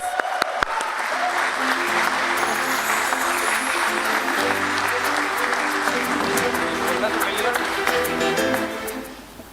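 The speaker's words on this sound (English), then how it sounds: "A louder round of applause" A loud, sustained round of applause from the audience at a stock exchange listing ceremony, dense clapping that holds steady for about nine seconds before fading, with voices and a few cheers mixed in underneath.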